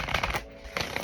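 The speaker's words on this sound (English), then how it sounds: "I gotta split this deck and give me a good shuffle here." Crystal-themed cards being split and shuffled by hand, two quick bursts of riffling flutter separated by a short pause, close and fairly quiet.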